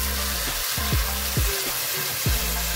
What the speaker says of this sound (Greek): Αρχίζουμε να τα ανακατεύουμε, να σοταριστούν, να υγρώσουν καλά